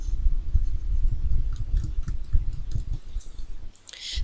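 Rapid clicking of keys on a computer keyboard, a quick string of close, light taps that eases off near the end, with no talking.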